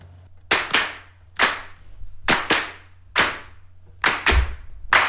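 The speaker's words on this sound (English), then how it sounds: "I will see if this works together with the MIDI claps" Sampled MIDI handclaps in a music mix, sharp bright claps landing in a steady rhythm, some in quick doubled pairs, with a low bass hum underneath.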